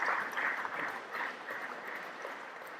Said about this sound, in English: Let's give him a round of applause for what he's done over the years.